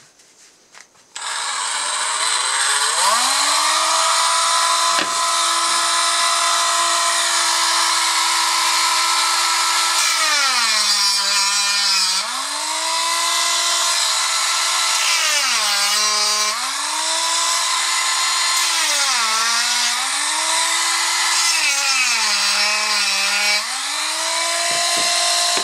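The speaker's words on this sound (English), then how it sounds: "Now let's check these four samples with the help of the rotary tool." A rotary tool grinds against steel epoxy glue samples (Akfix among them) on metal, a loud steady high whine that dips in pitch several times as the bit bears down, running continuously for about 25 seconds.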